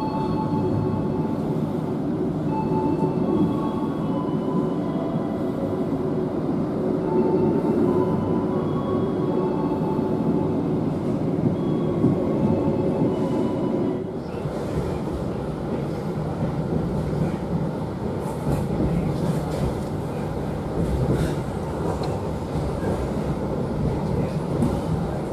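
The Purwojaya passenger train sits at Kroya station before departure, giving off a steady, loud mechanical rumble that shifts in tone about halfway and then continues evenly.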